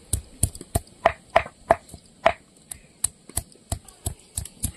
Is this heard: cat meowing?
no